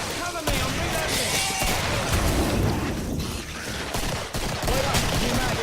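Rapid gunfire from the video game Killing Floor fills the whole stretch, dense overlapping shots and bursts at close range, with a player's voice talking over the shooting.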